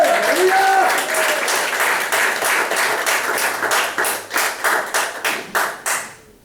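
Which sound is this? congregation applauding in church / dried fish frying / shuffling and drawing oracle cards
congregation applauding in church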